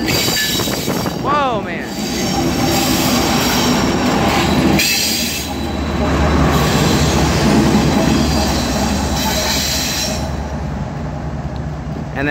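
Union Pacific freight cars roll steadily past nearby in the Roseville rail yard, with a continuous rumble, wheel squeal and metallic screeches, while a man briefly exclaims over the noise.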